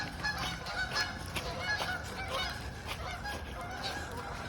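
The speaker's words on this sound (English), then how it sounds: "there's so many birds around here" Wild turkeys and other birds call by a forest creek in a continuous, busy chorus of honking fowl notes, moderately near and steady throughout, with no voices.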